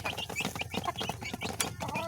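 A mother hen and her chicks clucking: dense, continuous low clucks mixed with high chick peeps, close and steady, with no talk.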